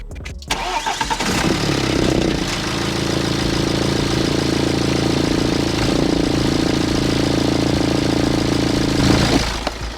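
A BMW E90 320d diesel engine starts with a short cranking burst, then settles into a smooth, steady idle after its timing chain replacement, a close, even hum holding for several seconds with no talk.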